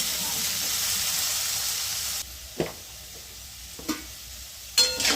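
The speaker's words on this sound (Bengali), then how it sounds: "আলুগুলো আমি একটু সুন্দর লাল করে ভেজে নেব" Potatoes fry in a pan with a broad hiss for the first couple of seconds, then the sizzle drops away, leaving a few sharp clatters of a spatula against the pan.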